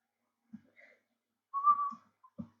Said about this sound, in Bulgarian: Извинете, че свиркам.